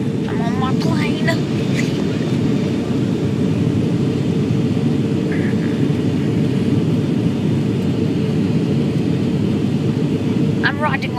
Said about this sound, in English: I'm on my plane.